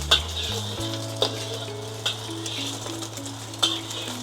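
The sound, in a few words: stirring eggs in a hot wok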